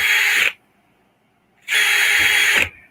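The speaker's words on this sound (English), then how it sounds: "let me know if this drill's too loud" A power drill drilling pilot holes whirs in two loud bursts, about half a second and one second long, separated by a brief quiet pause.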